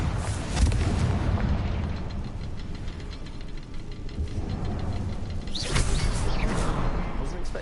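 Confringo spell explosions in a video game: heavy booming blasts with rumbling tails, one early and another burst later, over continuous game ambience.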